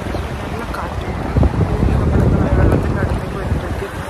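Strong wind buffets the microphone in a UK forest, a loud continuous rushing roar with gusts swelling and easing over several seconds.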